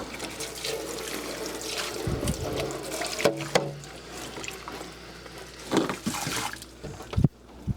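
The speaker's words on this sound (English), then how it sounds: "this model has an easy tray to pull out to wash. And for easy cleanup, you can easily just wash it by hand" Water running and splashing as the removable tray of a WeVac CV12 Pro chamber vacuum sealer is washed by hand in a sink, a steady trickling flow with a few louder clunks and splashes close by.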